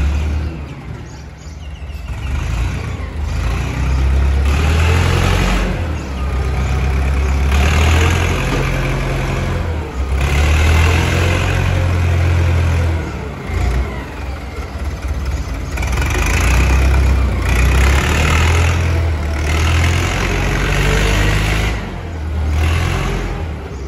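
A Komatsu JH30B wheel loader with an Isuzu four-cylinder engine idles nearby, a loud, continuous low rumble with uneven surges and dips in its throb.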